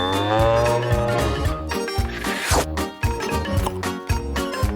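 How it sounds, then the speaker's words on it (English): A cow moos in a cartoon farm scene, set over bouncy background music with no talking; the low lowing call rises and falls across the few seconds. "There's a cow inside."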